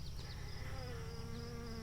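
Honey bees crowd around a caged queen, some curling their abdomens as if to sting through the cage, giving a steady, dense buzzing hum that stays close and constant throughout.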